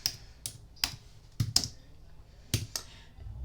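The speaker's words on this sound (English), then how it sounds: "Oops, I grabbed my keyboard, sorry." A computer keyboard is grabbed and bumped on a crafting desk, giving a handful of sharp, close plastic clacks and knocks scattered irregularly over a few seconds, with no talking.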